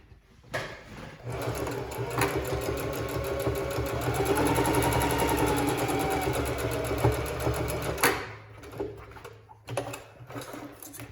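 Sewing machine stitching along the edge of a panda tote bag, a close, rapid mechanical whir that starts, runs steadily for several seconds, then stops with a few brief clicks.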